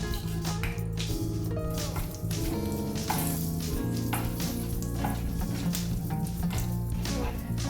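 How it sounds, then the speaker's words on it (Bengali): Dried red chili and fenugreek seeds tempering in hot mustard oil, a dense close sizzle with crisp popping and tapping sounds layered over a steady background hum. "দিলাম একটা শুকনো লঙ্কা ফোড়ন, দিয়ে দিচ্ছি 1/2 চামচ মেথি ফোড়নে।"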